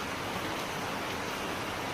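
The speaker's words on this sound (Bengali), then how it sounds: "দেখো কেমন বৃষ্টি হচ্ছে, এই দেখো কেমন বৃষ্টি হচ্ছে" Dense, even hiss of rain falling steadily, a constant wash of noise with no breaks or voices.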